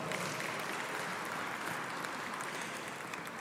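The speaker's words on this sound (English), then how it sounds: "Give yourselves a round of applause." Steady, faint applause from a dinner audience at the AAMA Legacy Awards reception, an even wash of many hands clapping heard at a distance.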